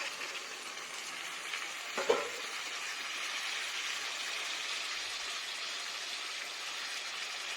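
Chicken fries on high flame after marinade masala water goes into the pan, producing a continuous bubbling sizzle with one brief clunk of stirring early on.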